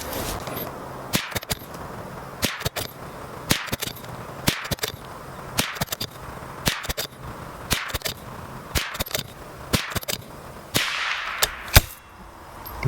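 Ten .22LR rifle shots using Winchester M22 ammunition crack out at a steady, unhurried pace, each a sharp, close report with a short decay and quiet gaps between.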